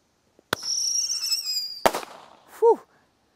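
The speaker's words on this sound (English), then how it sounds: "These were actually pretty darn solid Roman candles, but here goes another one." Daytime Roman candle fireworks fire: two sharp pops each launch a whistling, hissing shot, then a further crack and a short squealing burst, close and loud in open air before a storm.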